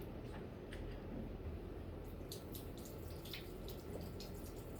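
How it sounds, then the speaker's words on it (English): Cold tap water runs steadily over a metal ring after heating, a continuous faucet stream splashing into a sink with a few brighter drips and clinks, close and alone without talk. "But if I run it under cold water"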